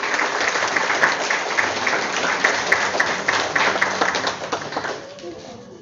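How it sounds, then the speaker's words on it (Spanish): Applause for a teacher at a school ceremony, a dense steady clapping crowd that tapers off near the end, with faint voices underneath. "Brindémosle un fuerte aplauso, por favor"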